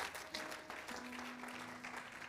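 A church congregation applauds to acclaim the Lord, a steady wash of clapping from many hands at moderate distance, alone and sustained.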